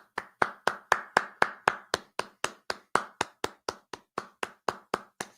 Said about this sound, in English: Can I get a round of applause for Twitter X?